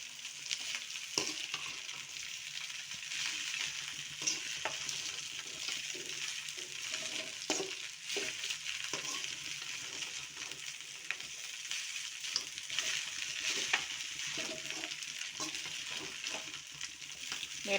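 Lentils, onion, curry leaves and green chilies frying in hot oil, a continuous close sizzle with frequent stirring scrapes throughout.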